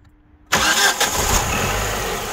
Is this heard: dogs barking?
no